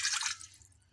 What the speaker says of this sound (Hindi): हाफ़ गिलास मैंने इसमें पानी डाल दिया है।